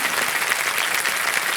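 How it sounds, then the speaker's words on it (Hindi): A studio audience on the Kaun Banega Crorepati quiz show applauds the contestants, a continuous, even roar of many hands clapping with no break. "तालियां बजते रहे हमारे कंटेस्टेंट्स के लिए।"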